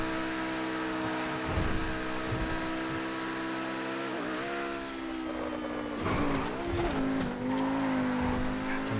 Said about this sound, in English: It's a monster, this car.